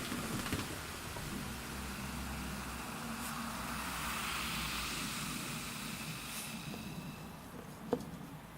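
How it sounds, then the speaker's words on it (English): Cars passing outside a condo, a faint steady road hiss and rumble heard through poorly insulated walls, with a brief sharp knock near the end. "the sound of cars is pretty loud because the insulation in this place isn't very good"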